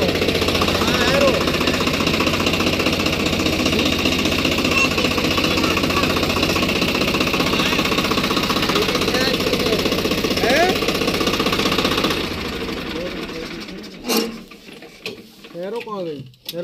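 A Swaraj 742 XT tractor runs with a loud, steady mechanical clatter while being driven to the field, then drops off sharply near the end, leaving quieter rattles and knocks.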